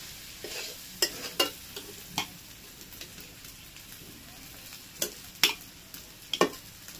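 A spatula stirring mixed fried rice of long-grain rice in a sizzling pan, irregular scraping taps over a steady frying hiss, close by, with no one speaking.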